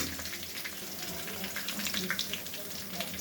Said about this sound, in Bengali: এই যে কাঁচা জিরা ফোড়ন দিলাম।